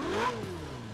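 The engine of a Ferrari Portofino in Forza Horizon 4 revs briefly, heard from inside the cabin, with a rising then falling tone over a steady low hum.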